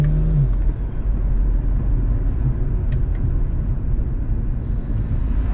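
A BMW 335i in sport mode drives under load, its engine a deep, steady rumble heard from inside the car, continuous and fairly loud with no talking over it.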